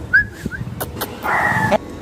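Dogs in a residential street make a short series of high whimpers and yelps, then one longer whining howl, fairly close by with faint background noise.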